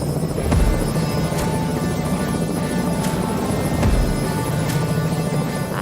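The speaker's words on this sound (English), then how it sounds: "He also wants to dock the helicopter in the steep part of the glacier" A Robinson R66 turbine helicopter's rotor thumps steadily up close while landing on a steep mountain glacier in Switzerland, a loud continuous chopping drone with periodic sharper blade slaps.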